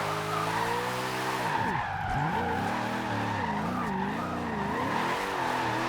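A car drifting sideways in Forza Horizon 2 wails its engine through rising and falling revs, layered with a steady tire squeal across the whole stretch, loud and close with no talk.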